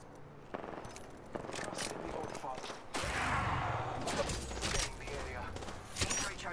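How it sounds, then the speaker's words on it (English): Video game gunfire crackles in rapid bursts and sharp shots, growing louder midway through, mixed with game voices and effects. "Opening fire on the enemy."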